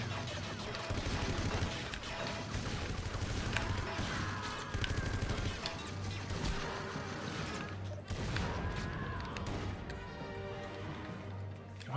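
Machine gun fire in 007: Everything or Nothing, dense rapid bursts of automatic shots with impacts and crashes, loud and continuous with a short break near the eight-second mark.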